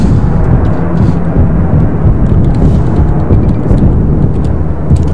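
Loud fireworks rumble continuously in the SimCity video game, a thick roll of deep booms and crackles with no pause throughout.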